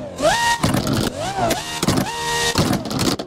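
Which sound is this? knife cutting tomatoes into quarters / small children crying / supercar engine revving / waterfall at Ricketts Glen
supercar engine revving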